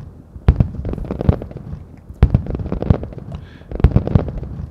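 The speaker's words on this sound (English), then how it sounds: "we are going to make some fireworks" Fireworks bursting as a demo shot: three sharp, loud bangs about two seconds apart, each followed by a dense crackling tail that hangs between them, with no voices.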